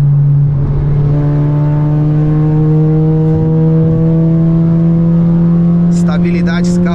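A Volkswagen Jetta 1.4 TSI engine is driven hard, giving a loud, steady engine drone with strong rising harmonics under acceleration. A brief burst of higher noise comes near the end.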